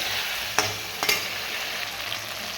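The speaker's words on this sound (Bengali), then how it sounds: "আলু পটলগুলো ভালো করে কষিয়ে নেব" Potatoes and pointed gourd sauté in a pan for a vegetarian paneer curry, giving a continuous soft sizzle with two brief sharp scrapes from stirring.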